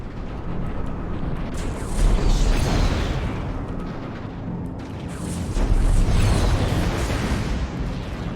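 Comms relays blow up in the space combat game Strike Suit Zero, sounding as two loud, rumbling explosive bursts a few seconds apart over a continuous roaring background.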